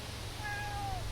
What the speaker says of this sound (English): And hey Gally, my cat's meowing at me right now